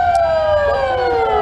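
Wailing emergency sirens, a loud close tone sliding steadily downward in pitch with higher harmonics, heard alone without talk.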